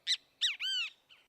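Great kiskadee giving its call, a quick run of three sharp, bright notes with the last one drawn out, then a fainter final note, close and clear against silence.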